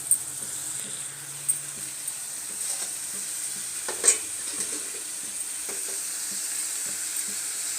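Spices and potato sauté in a pan with a soft, even sizzle, while occasional spatula knocks and stirs sound close by and one sharper clatter comes partway through.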